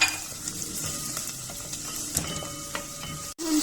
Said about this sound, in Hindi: अब इसमें हम 1 स्मॉल प्याज डालेंगे और इसको सौते करेंगे